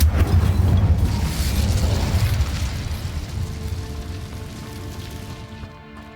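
A fire spell, Incendio, is cast in Hogwarts Legacy, bursting out as a loud rumbling blast that roars for a couple of seconds and then slowly fades into crackling residue.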